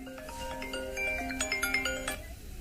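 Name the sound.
phone ringtone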